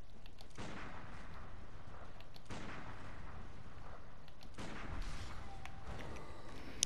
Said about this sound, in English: there's gonna be cannons up there